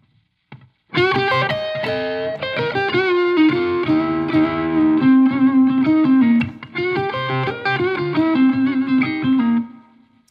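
A softly played electric guitar lick with a bluesy bend, clean and sustained, ringing alone with a touch of reverb.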